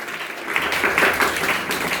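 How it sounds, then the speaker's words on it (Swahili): Church congregation clapping along during a sermon, a steady mass of hand claps spread across the room, moderately loud, with a voice faintly mixed in. "Pigeni makofi hata kama tuko pamoja naye."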